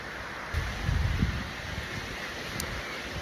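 Outdoor wind gusting against a microphone while a hare's ear nymph is tied by hand, a low rumbling buffet that swells strongly early on, then settles into a steady breezy hiss.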